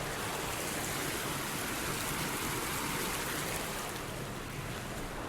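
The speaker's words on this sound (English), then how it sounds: "Let's take in the sound of the water" Steady running water, a constant close rushing wash with no breaks and no voices.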